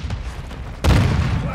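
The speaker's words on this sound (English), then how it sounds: "throw a flash grenade! Grenades incoming!" A heavy boom bursts out partway through, a flash grenade detonating during a Resurgence Quads match in a video game, following a stretch of dense low game noise and continuing as a loud sustained rumble.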